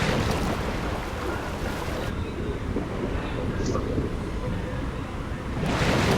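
Water and waves in the BGMI (Battlegrounds Mobile India) game, Aquaman mode, as a character drops into the water: a loud, steady rushing wash of surf and water noise that continues throughout the clip.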